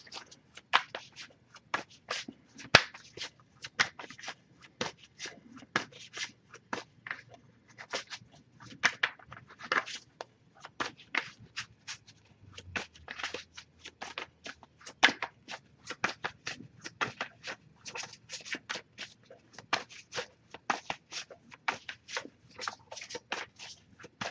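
A tarot deck is shuffled continuously by hand, close and quiet, with rapid irregular card flicks and riffles running steadily for over twenty seconds without talk.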